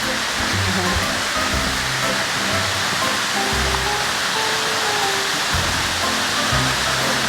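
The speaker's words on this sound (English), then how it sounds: "I'm just excited to go see a waterfall." A waterfall at Cloudland Canyon pours in a continuous broad rush of water, with heavy low rumbling and occasional rustling near the microphone.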